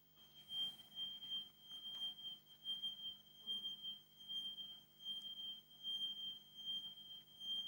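Steady electronic tone, high and continuous, repeatedly sweeping slightly up and down in pitch as its source approaches and recedes, producing a Doppler shift; it stays faint and even over low background hum.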